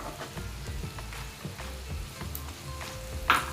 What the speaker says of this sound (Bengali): এখন এর মধ্যে দিয়ে দেব আমার কেটে রাখা একটা ক্যাপসিকাম